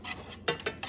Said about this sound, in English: you're just going to stir that, blend it up, breaking off the browned pieces on the bottom of the pan if possible